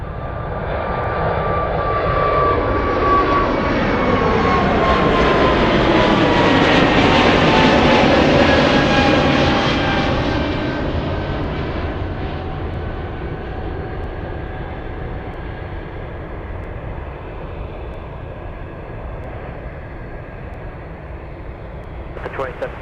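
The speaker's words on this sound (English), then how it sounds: "All right, let's go over to the Delta Airlines A220." A Delta Air Lines Airbus A220 bound for Seattle departs Anchorage. Its jet roar swells loudly to a peak, then fades steadily into a long, distant rumble.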